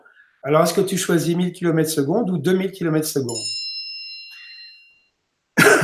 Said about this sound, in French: Ah, c'est le téléphone.